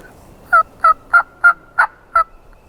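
A wild turkey gobbler gobbles in a Georgia spring woods at midday: six sharp, evenly spaced bursts, clear and fairly close, standing alone with no talk.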